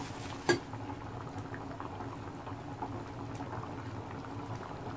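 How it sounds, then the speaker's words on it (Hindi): Dal bubbling at a steady boil in a pot on a gas stove, a continuous soft gurgle and simmer with one brief sharp clink early on and no talking. "देख सकते हैं आप दाल में उबाल आ गया है"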